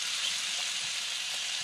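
Pork belly pan-frying for meigan kourou gives a steady, close sizzle of hot fat that stays even and unbroken for a moment.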